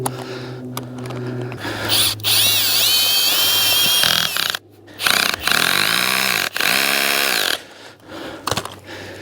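A power screwdriver drives a screw-style tent stake into the ground, loud whining motor bursts rising and falling in pitch with several short pauses between runs, no talking.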